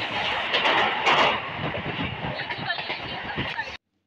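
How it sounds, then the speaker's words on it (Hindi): Jammu Mail passenger train slowing on its rails as it nears Shri Mata Vaishno Devi Katra station, a steady rumble with faint wheel clatter heard from onboard under someone talking, ending abruptly. "हमारी ट्रेन भी स्लो हो चुकी है और प्लेटफॉर्म भी आने वाला"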